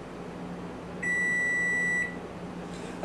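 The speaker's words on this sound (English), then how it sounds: "There's the buzzer." Oven timer buzzer in a home kitchen while a taco casserole bakes, one sustained electronic tone lasting about a second over a low appliance hum, loud and close.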